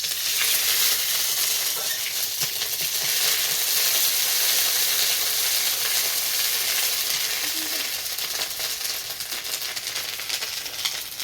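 Ginger paste frying in ghee and mustard oil with cumin and peppercorns, giving a loud, steady broadband sizzle that holds evenly throughout with no voices.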